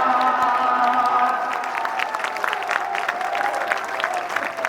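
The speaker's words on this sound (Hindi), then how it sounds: "इतनी कमजोर ताली से काम नहीं चलेगा।" Crowd at a Congress political rally in West Bengal applauding and cheering, a dense patter of clapping close up with a faint drone beneath, fading slightly toward the end.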